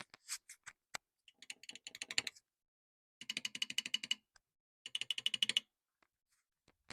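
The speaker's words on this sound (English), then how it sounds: "They sound like some really high quality keyboard switches." Buttons on an old Burroughs fax machine with a thick plastic case are pressed in quick bursts of crisp mechanical clicks, clustered in rapid runs separated by pauses, close up and fairly quiet.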